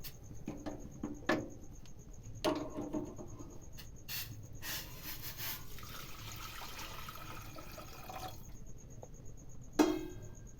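Hot water poured from a glass into a pan of wheat, a soft, steady splashing and trickling with a few sharp clinks, heard fairly quietly with no speech.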